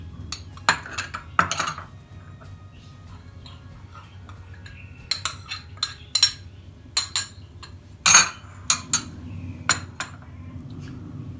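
A spoon clinks and scrapes against a bowl while sugar, flour and wheat or corn starch are stirred together for a piano cake, with sparse, uneven clinks over a quiet background and no talking.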